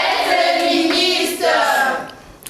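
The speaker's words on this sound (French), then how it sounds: "On applaudit." Students and audience clapping at a March 8 school celebration, loud close hand claps blended with sustained voices and cheering, fading near the end.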